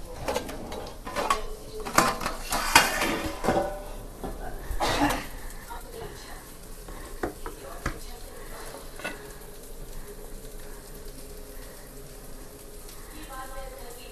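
Plates and dishes clatter in a burst of sharp knocks while a fish-fry meal is laid out, as fish sizzles in a pan nearby. Soft frying and people talking continue after the clatter.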